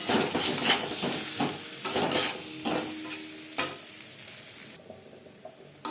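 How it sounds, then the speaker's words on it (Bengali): Boiled potatoes fry lightly in a pan with salt and turmeric, a moderate sizzle under repeated scraping stirs that grows quieter toward the end. "পরিমাণ মতো লবণ ও হলুদের গুঁড়ো দিয়ে আলু আমি হালকা করে ভেজে নেব"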